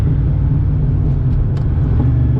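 Car fitted with a new Tremec TKX manual transmission driving along, a steady loud low engine and road rumble continuing unbroken throughout with no talk.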